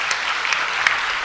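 Audience applause after a talk at a writers' event, a steady dense patter of many hands clapping indoors, fairly loud throughout the short burst.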